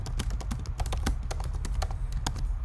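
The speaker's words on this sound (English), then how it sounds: "And so we can type some text into this." Rapid typing on a computer keyboard while text is entered into an HTML paragraph tag, with close, crisp key taps in an irregular stream over a steady low hum.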